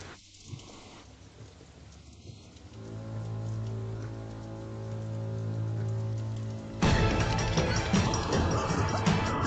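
Heavy rain pours down in a roaring, continuous wash that swells louder toward the end. A low hum or droning tone sits underneath in the middle, and no speech is heard.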